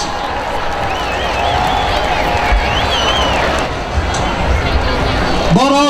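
Crowd at the 150th Armada Fair monster truck show claps and cheers steadily, a broad roar of applause and shouting with whistles and voices mixed in throughout.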